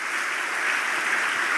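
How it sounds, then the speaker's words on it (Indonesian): A church congregation applauds together in a dense, steady wash of clapping that holds at an even level throughout, with no talk over it. "Tepuk tangan buat Tuhan Yesus."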